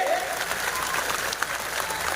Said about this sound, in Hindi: इतना जोरदार ताली बजा के उपस्थिति दर्ज करिए